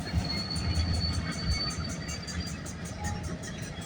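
CN freight train A434, led by BC Rail locomotive 4652, rolls past at night, a steady low rumble of wheels and cars with a faint high squeal and rhythmic clicking, with no talk.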